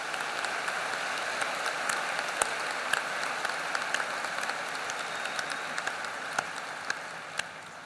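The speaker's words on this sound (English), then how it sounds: "Please join me in a round of applause to show our appreciation of their leadership." A large audience at a university business and economics commencement ceremony applauds in a dense, steady wash of clapping, with a few sharper claps popping out from the crowd.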